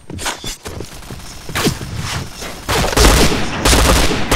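Gunfire in the shooter game Point Blank, with repeated bursts of shots, close and loud, growing denser and heavier toward the end.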